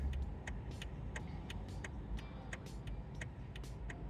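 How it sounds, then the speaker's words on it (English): Steady road traffic heard from inside a car on a busy Saturday, a low continuous engine and road rumble with faint repeated ticking clicks, like an indicator, over the top; no one speaks. "Traffic is really bad today."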